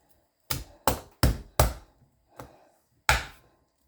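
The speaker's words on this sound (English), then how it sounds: "I have a rubber hammer here that I use" A rubber hammer strikes food on a cutting surface to break it apart, giving six sharp, close thuds at an uneven pace with a short pause before the last blow, and no talking.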